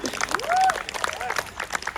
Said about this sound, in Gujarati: હા એમ તાળી બરોબર પડવી જોઈએ